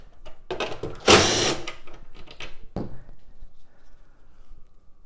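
A power drill or driver removes two 5/16 bolts from the cover of a Genie Powerlift 900 opener in short close bursts, including one loud whir, followed by clinks and quiet handling noises.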